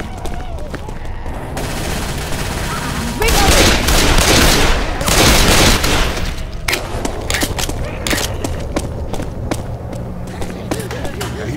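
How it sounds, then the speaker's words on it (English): Machine gun fire in the zombie shooter Left 4 Dead 2 rattles out in sustained, loud bursts, with a dense stretch of rapid shots in the middle and scattered sharp game impacts and effects around it. "Go with the machine gun."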